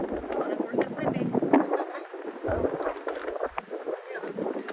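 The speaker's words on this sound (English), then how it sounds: "Oh, and of course it's windy." Gusty wind buffets the microphone beside Taylor Lake in Plumas County, California, a steady rough rush that swells and eases throughout, with voices faintly mixed in.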